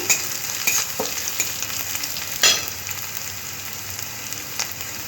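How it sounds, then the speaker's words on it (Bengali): Small chopped green chillies fry in a pan for saucy chicken fingers, a constant close sizzle punctuated by a few scraping stirs and spoon clicks, no speech. "লঙ্কা আমি এরকম ছোটো ছোটো করে কেটে নিয়েছি এগুলো হালকা একটু ভেজে নিতে হবে"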